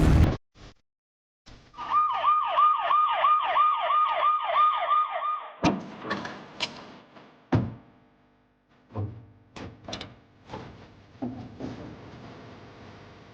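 An ambulance siren wails in quick rising-and-falling cycles for a few seconds at moderate distance, then stops, followed by scattered thumps and car door knocks in a tense crime-drama scene.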